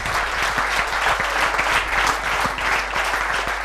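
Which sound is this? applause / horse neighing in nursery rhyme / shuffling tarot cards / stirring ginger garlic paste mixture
applause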